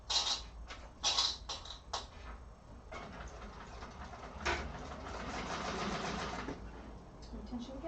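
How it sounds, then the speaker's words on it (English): A sewing machine chain sewing across a raw fabric edge while making a handbag, starting with a few short bursts of stitching and then a longer run of even, rapid mechanical whirring close by, without any talk. "Yeah, I'm going to chain sew them. Just going to go across this raw edge here so I don't have to cut my thread."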